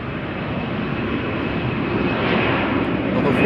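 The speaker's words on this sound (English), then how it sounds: "This is Air France A321 to Paris Charles de Gaulle" Air France Airbus A321 jet at Amsterdam Schiphol Airport, a steady broadband engine roar that holds loud and swells slightly toward the end.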